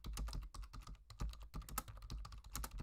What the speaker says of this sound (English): Excuse the keyboard.